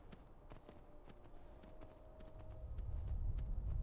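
Horse hooves galloping in Skyrim, a steady clip-clop of repeated hoofbeats, fairly close, with rumbling low noise building toward the end.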